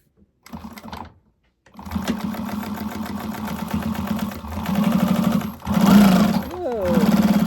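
A domestic sewing machine top stitching a bag runs in a strong steady whir. It stops briefly after the opening burst, then restarts and speeds up while someone talks over it.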